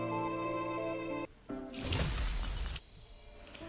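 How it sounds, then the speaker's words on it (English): A protocol cluster shatters in the Love and Deepspace video game: a loud, bright burst of breaking glass with a low rumbling tail that cuts off abruptly, set against sustained musical tones. "As the protocol cluster shatters, a distant tremor ripples through the air."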